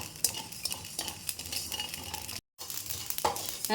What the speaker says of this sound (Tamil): கடுகு பாருங்கள் பொறிஞ்சிருச்சு நல்லா வெறுத்தாச்சு பாருங்கள் நல்லா பட பட பட அப்படி பொரியணும்